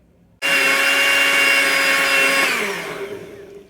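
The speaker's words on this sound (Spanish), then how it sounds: "Luego de agregar el café y la leche condensada, vamos a licuar por aproximadamente un minuto." A kitchen blender whirs loudly and steadily as it blends coffee with condensed milk, then its motor winds down near the end, with no talking.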